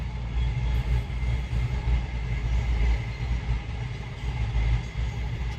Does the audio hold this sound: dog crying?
no